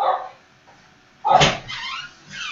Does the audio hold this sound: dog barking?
yes